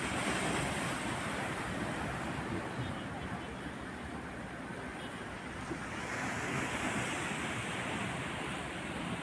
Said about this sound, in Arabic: والموج عالي